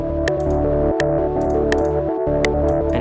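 Synth bass and a looping arpeggiator sequence from the Phase Plant synthesizer play together, a steady pulsing low line under bright repeating notes with periodic percussive ticks, loud and continuous with no voices.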